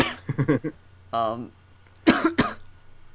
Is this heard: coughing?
yes